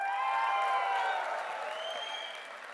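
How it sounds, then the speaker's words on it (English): Audience applause at a phone launch event, a steady wash of clapping from a crowd that holds for a couple of seconds and then eases slightly, with faint voices and cheers mixed in. "Applaud because they're all here."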